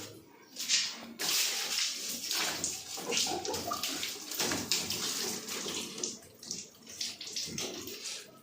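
Water thrown from a bucket over a car during a home wash splashes in loud, uneven surges and gushes, close by, with no talking.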